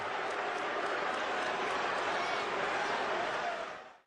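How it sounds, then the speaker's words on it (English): A Lakers basketball arena crowd roars and cheers in a dense, sustained wall of noise that holds steady and then fades out at the end. "And the Laker crowd fired up."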